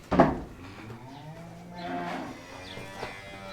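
Cattle in a pen mooing, one loud low call near the start followed by further lowing and restless stirring from the herd through the rest.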